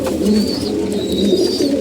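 Pigeons in a loft cooing steadily, low soft throaty calls overlapping close by, with faint higher chirps from young birds in the background.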